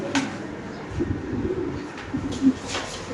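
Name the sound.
white Mundian male pigeon cooing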